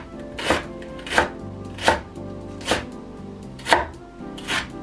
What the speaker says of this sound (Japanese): 玉ねぎは薄くスライスしていきます。